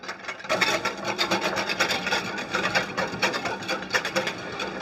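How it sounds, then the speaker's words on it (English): A whisk scrapes and swishes rhythmically through hot marsala gravy as cornstarch is stirred in, a steady close-up rasping beat that continues throughout with no talking. "All right, we'll whisk in."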